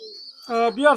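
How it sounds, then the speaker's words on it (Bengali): A close coo from a pair of Dabla pigeons, a soft throaty two-part call preceded by a faint high whistle. "এটা হচ্ছে ডাবলা কবুতর রানিং পেয়ার"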